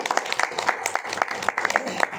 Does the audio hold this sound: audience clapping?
yes